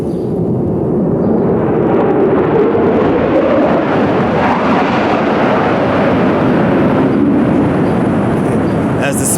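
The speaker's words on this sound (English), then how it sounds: "as a jet just flew right over" A jet flies right overhead as a loud, broad roar that swells and fades across several seconds, with a person speaking over it.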